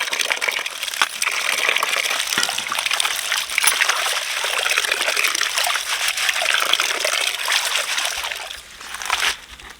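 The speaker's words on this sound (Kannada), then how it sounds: "ಈಗ ನೀರು ಹಾಕಿ ಎಲೆ ಗಿಮುಚ್ಬೇಕು." Water trickles and splashes steadily as leaves are washed, with sloshing and light handling noises, close by and fairly loud throughout.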